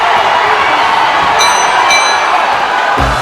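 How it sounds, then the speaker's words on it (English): A boxing arena crowd at a live televised fight cheering and roaring loudly at the final bell, a dense continuous wall of voices with whoops, ending in a low thump. "The crowd's on their feet."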